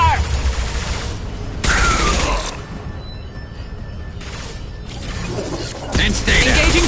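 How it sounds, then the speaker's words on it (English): Gunfire from the video game Mass Effect Legendary Edition, with loud bursts of shots and impacts in combat, mixed with character voice callouts and battle noise. "Firing a high-impact shot"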